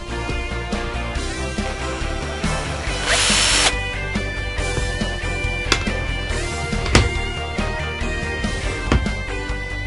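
A power drill drives screws while building a fixture for a Milescraft SpiroCrafter, with short bursts of whirring over a busy workshop background and a couple of sharp knocks, close and fairly loud.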